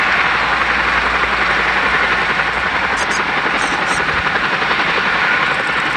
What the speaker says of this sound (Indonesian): Kita menemukan helikopter Chinook.